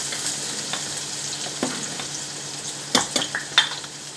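Chopped onion frying in a pan for a potato chutney gives a steady crackling sizzle throughout, with stirring scrapes growing louder and more frequent near the end.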